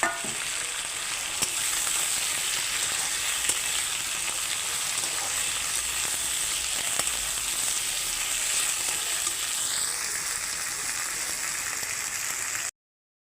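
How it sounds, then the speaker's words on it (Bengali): Cauliflower florets and potatoes fry together in a pan of hot oil, giving a constant close sizzle with faint crackles and occasional soft ticks, steady until it cuts off abruptly near the end. "এখন আমি ফুলকপিগুলোও ভেজে নিচ্ছি একসঙ্গে দিয়ে ভেজে নিচ্ছি"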